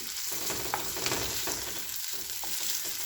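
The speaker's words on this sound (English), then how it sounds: "I am like stirring the onions continuously without taking my hand so that I can maintain the onions cooked evenly" Onions frying in a pan on low to medium flame, stirred continuously, give a steady, even sizzle with faint scraping strokes throughout and no voices.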